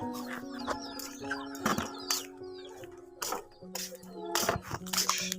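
Chickens on a rooftop cluck and squawk in short, scattered bursts, fairly near, with occasional sharper calls over a quiet background.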